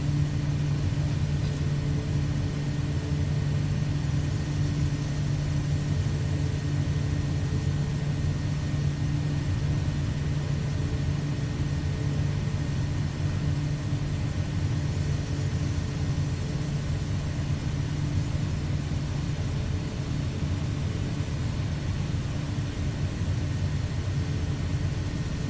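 Steady, unbroken drone of a propeller aircraft engine in the MSFS 2024 flight simulator during bush flying over Idaho, holding an even loud hum with constant tonal whine and no talk throughout.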